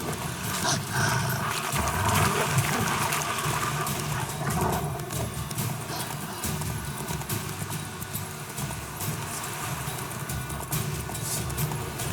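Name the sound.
horse galloping in The Witcher 3 video game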